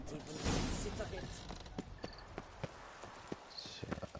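Horse hooves clip-clop in a steady trotting rhythm in the video game The Witcher 3, fairly close, with a faint voice in the background.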